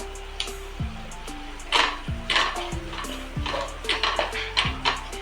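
Coriander and cumin seeds are stirred in a hot pan, a spoon scraping and clinking against the metal in repeated strokes over a soft, steady sizzle of frying.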